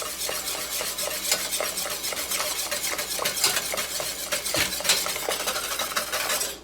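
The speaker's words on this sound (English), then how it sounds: "Mix that in while it's hot." A spoon stirs a hot cooked eggnog base with spices and vanilla paste in a pot, giving steady, continuous scraping and swishing with faint clinks and a light sizzle, close and fairly loud with no voices.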